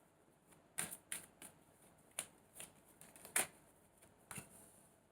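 Tarot cards being shuffled during a card reading, heard as a handful of separate soft riffling bursts spaced irregularly over a quiet background with no talking.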